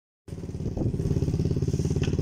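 A motorcycle engine starts up abruptly and runs at a steady, pulsing idle close by, its rhythmic low chugging continuing without a break.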